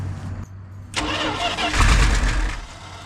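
A 1985 Dodge Ram truck engine cranks briefly and then fires up, settling into a loud, rough mid-pitched idle up close after about a second of quiet.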